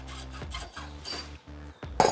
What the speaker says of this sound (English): We're cutting it with a hacksaw.